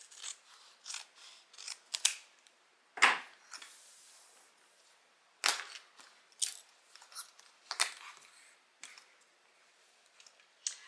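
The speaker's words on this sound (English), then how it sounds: "I'm going to cut my zipper back a little bit because I do not want to get it stuck in my seam allowance." Scissors snip through a fabric zipper during sewing prep, giving a run of crisp, close cutting clicks and rasps in irregular bursts with quiet pauses between, no voices over them.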